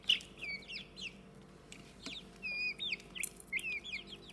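Young chicks in a brooder peep and chirp in quick high-pitched bursts, several birds close by calling over a quiet background with no talking.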